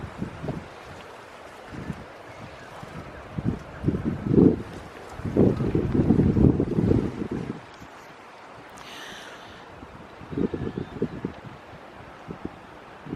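Strong wind buffets the microphone on the Newport, Rhode Island waterfront, with low rumbling gusts that swell and fade irregularly, loudest in the middle, over a quiet outdoor background.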